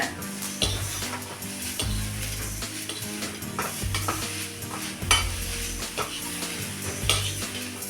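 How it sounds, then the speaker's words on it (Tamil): Steady frying sizzle of coconut in ghee over a low flame, with a spoon scraping and stirring against a pan in repeated strokes, close up, no talking. "நெய் சூடானதும் இந்த தேங்காயை இதில் போட்டுக்கலாம். இதை நல்லா சுருள வதக்கிக்குங்க."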